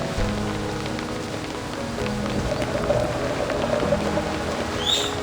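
Steady storm rain pours down in the video game Reverse: 1999, a dense, even hiss of falling drops with low rumbling underneath. A brief whistling tone rises near the end, and no one speaks.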